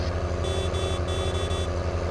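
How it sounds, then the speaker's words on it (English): Repeated horn honks from a vehicle in a multiplayer video game, sounding as steady tones over a constant low engine drone, with no talking. "Press 0 and you got a horn."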